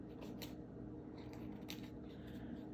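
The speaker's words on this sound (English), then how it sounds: "So you just use your scissors, trim off all this extra part." Scissors trimming excess tissue paper from a llama art project, giving a few soft, crisp snips and paper rustles scattered through a quiet room.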